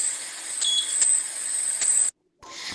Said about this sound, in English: it recognizes with a beep sound, letting the person know that, be careful, there is something in front of you